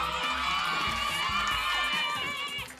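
Girls in a live TV studio audience scream loudly and continuously, a dense high-pitched crowd roar that holds steady for nearly three seconds before easing slightly at the end.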